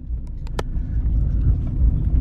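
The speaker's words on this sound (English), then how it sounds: "We were driving in the car." Inside a moving car on an autumn drive, a steady low engine and road rumble fills the cabin, with a few brief clicks near the start and no talking.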